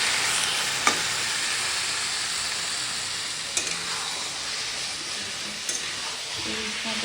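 A pan of curry sautéing on a gas stove, a steady close sizzle and frying hiss with a few brief clicks of stirring utensils.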